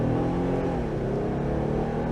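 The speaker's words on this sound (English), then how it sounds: "I'm going to turn around and I'm going to see how this vehicle's accelerate" A 2022 Jeep Wrangler Sport with a 3.6 liter engine accelerating steadily, with a constant engine drone and road roar from inside the cabin and a slight rise in pitch.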